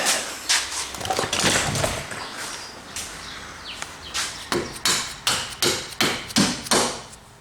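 A series of dull, evenly spaced knocks from a rubber mallet during Citroen Berlingo repair, close and fairly loud, speeding into a steady rhythm of about a dozen taps.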